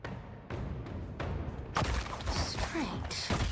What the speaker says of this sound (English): Oh, the explosions.